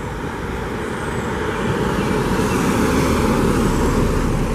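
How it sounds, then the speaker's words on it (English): Car passing by on a road through deer country, a broad rushing roar that swells gradually and stays fairly distant, alone without talk. "That was a car that just passed by."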